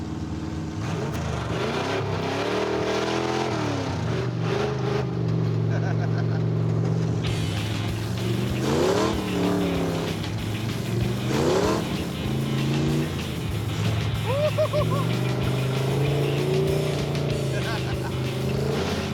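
Off-road car driving across desert terrain, a loud steady engine drone with rising and falling revs as it bounces along, continuous and close, with people talking over it at times.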